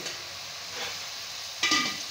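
Chopped onions cook in oil for chicken biryani, giving a close, steady hiss with a brief louder burst of sizzle and stirring near the end.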